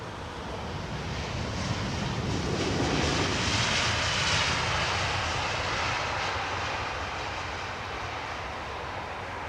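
Jet airliner arriving on runway 27R at London Heathrow Airport, a loud sustained engine roar that swells as it passes nearby and then holds steady with no talking.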